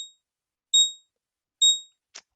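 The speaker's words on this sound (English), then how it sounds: "I've got a chart alarm triggering right now." A trading software chart alarm goes off on a computer: two crisp, high two-tone electronic beeps spaced evenly apart, followed by a brief click, in otherwise silent surroundings.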